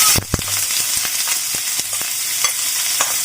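Ingredients sauté lightly in a pan for a Taiwanese dish, a continuous sizzle broken by several sharp clicks and taps of a utensil against the pan at uneven intervals.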